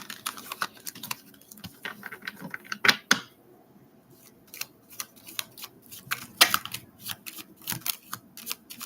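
Tarot cards being shuffled in quick bursts of crisp riffling taps and clicks, close and fairly quiet, with a brief pause midway and no talking.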